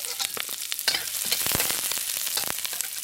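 Chopped onion fries in hot oil in a wok, giving a steady close sizzle with crackles and occasional stirring scrapes, no voices.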